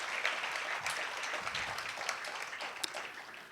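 Sustained applause fills a Harvest for Hunger recognition ceremony as the crowd claps for the event's sponsors, a dense, steady patter of many hands at even loudness from start to finish.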